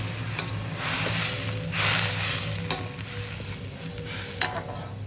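Galangal, lemongrass and kaffir lime leaves stir-fried in a pan for Thai tom yum with coconut milk and snakehead fish: a continuous hiss and crackle of frying, punctuated by several sharp spatula scrapes and clinks against the pan, no voices.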